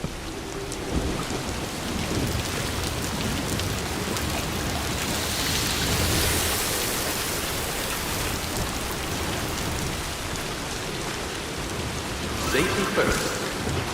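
Steady heavy timefall rain pours down in the game Death Stranding 2, a dense close wash of falling drops with low rumbling underneath, while a voice speaks briefly over it.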